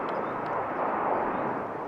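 An airplane passes overhead at a night cricket match in Belgium, a steady, broad roaring rumble that stays loud and even throughout without a break.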